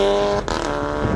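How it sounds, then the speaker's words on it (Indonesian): A loud VW Golf exhaust with a Valvetronic system revving with a deep, throaty roar, rising and dipping briefly in pitch over about a second, close by. "Nih lu pasti mau dengerin suara knalpot kan"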